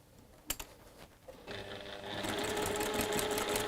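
A domestic sewing machine runs a quarter-inch seam through quilt blocks, starting after a couple of clicks and building into a fast, steady whirring stitch, close and clear.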